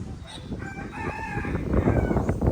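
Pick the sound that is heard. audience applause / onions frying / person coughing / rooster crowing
rooster crowing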